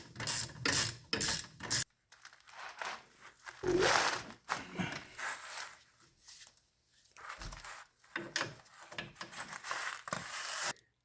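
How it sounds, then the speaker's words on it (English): A ratchet drives bolts through a ball joint on a BMW E46 xi front suspension: quick bursts of close clicking, some fast and dense, others slower, separated by brief pauses and handling clatter. "I'm going to start by putting these bolts through the ball joint."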